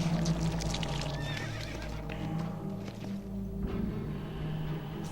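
In the Shadow of the Colossus video game, a horse gives a clear, fairly close neigh and whinny, with hoof clip-clops and game ambience around it.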